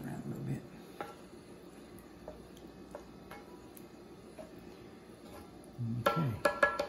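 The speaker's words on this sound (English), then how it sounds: "And just stir it around a little bit." A spoon stirs a chorizo queso dip with seasoning in a pan, giving light, scattered ticks and scrapes against the metal over a soft simmer, with brief bits of a voice at the start and end.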